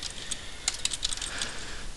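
Faint, light tapping on a computer keyboard, a short scattered series of clicks over a steady background hiss.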